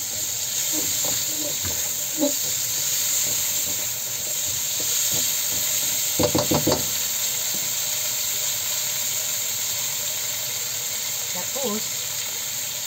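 Onion and green onion sizzle in a hot pan beside shrimp and squid, a constant bright hiss broken by a few clattering utensil knocks and scrapes, with no voices.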